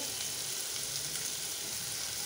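Food lightly frying in a pan, a steady, even sizzling hiss throughout, fairly quiet and without talk.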